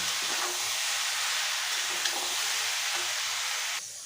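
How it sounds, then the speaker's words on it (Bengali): Amla pickle fries and is stirred in a pan, a steady close sizzling hiss with faint scraping underneath that drops off abruptly near the end; nobody speaks. "আমি আবার ভালো করে নাড়িয়ে নেবো ভালো করে কষিয়ে নেবো"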